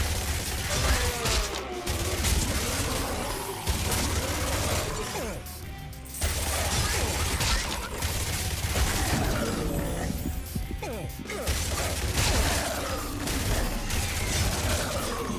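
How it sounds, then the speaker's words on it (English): Rapid SMG fire rattles in continuous bursts during a zombie defense video game, dense and loud, mixed with clattering mechanical and crashing effects and short pauses between volleys. "I don't know why I'm using this SMG!"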